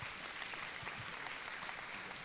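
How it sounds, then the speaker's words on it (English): An audience welcoming a speaker claps steadily throughout in a dense, even wash of applause, heard from a distance at a soft level without voices. "let's give a warm applause and welcome to Mr. Flindt Andersen."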